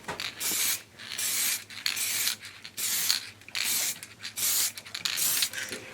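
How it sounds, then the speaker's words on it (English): Copper spray paint hisses from an aerosol can onto a homemade phone holder, coming in several long, steady bursts separated by short pauses, close and fairly loud. "all I've done is spray it with copper"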